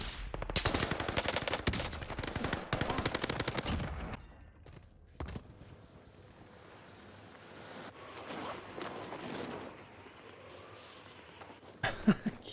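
Rapid bursts of gunfire from a Swiss K31 sniper rifle and other guns in a first-person shooter video game, dense shots over the first four seconds, then quieter ambient game noise with a few scattered reports and a late sharp shot.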